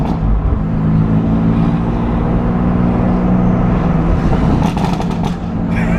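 A BMW F82 M4 fitted with a loud burble exhaust tune drones steadily in traffic, a constant heavy engine rumble filling the whole stretch with crackly bursts near the end.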